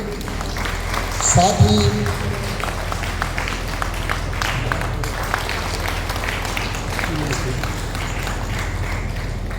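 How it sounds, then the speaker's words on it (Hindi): Applause from an audience at a Sarna youth leadership training gathering, a steady wash of clapping running under someone speaking over a loudspeaker for the whole stretch. "जोरदार तालियां इनके लिए"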